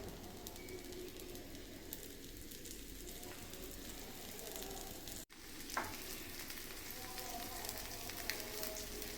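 A masala dosa cooking on a pan with ghee and a little oil poured over it gives a steady, quiet sizzle throughout, briefly cut off midway, with faint birdsong in the background.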